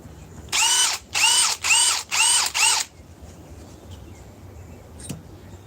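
A power drill driving fasteners gives five short, even whirring bursts in quick succession, each about half a second long and close by, followed by near silence.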